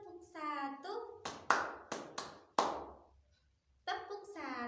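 Hands clap in a rhythmic counting game, 'tepuk 1 2 3', with four crisp claps in a row between spoken and chanted lines from an adult voice.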